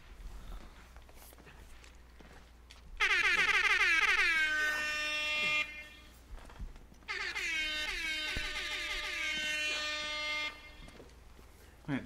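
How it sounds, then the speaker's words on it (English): Two long, loud air horn blasts, each held for about three seconds with a wavering pitch, sound over a low background hum and scattered faint noises. "Barrage of the air horn."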